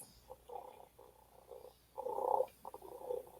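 A robotic pet cat purrs in soft, low rhythmic bursts with short gaps between them, close by and quiet, with no talking.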